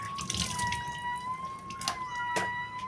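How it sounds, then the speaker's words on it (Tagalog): A household faucet runs with water, a steady, moderately close trickling and splashing with a few louder drips and a faint high whine, no talk. "natunog ang aming gripo"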